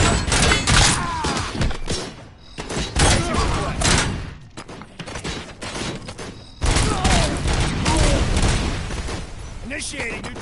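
A grenade explosion and rapid gunfire in RoboCop: Rogue City: loud, dense volleys of shots and thuds in two bursts separated by a brief lull, with voices mixed in.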